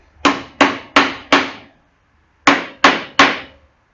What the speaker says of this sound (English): We hammer these nails in a bit.